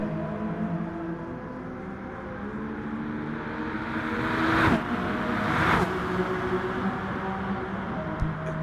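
An Aston Martin race car's engine drones steadily during a motor race, with two sharp whooshing surges as cars pass close by midway through, no commentary over the sound.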